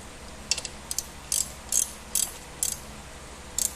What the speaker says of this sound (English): Grab my wrench. Socket, whatever you got.